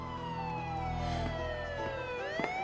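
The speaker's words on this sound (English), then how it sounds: "Walking down the street and I heard the sirens coming after me." A police siren wails in a film scene, a loud, continuous tone sliding steadily downward, then rising again near the end, with no speech over it.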